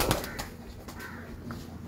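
Breeder pigeons coo softly in low, rolling calls over a noisy background, with a faint flutter of activity nearby and no speech.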